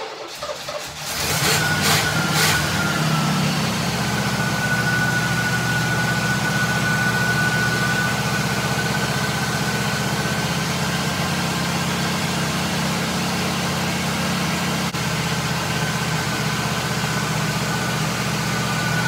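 An Oldsmobile 455 V8 in a triple-carb setup cranks over with a few quick bursts, then catches and settles into a steady, loud running idle that holds close and constant to the end.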